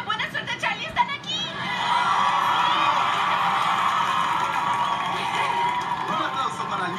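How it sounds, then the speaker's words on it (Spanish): A few spoken words, then a crowd bursts into sustained applause and cheering that holds steady and loud. "Un aplauso para Lia Lee Baker y Mia Talerico."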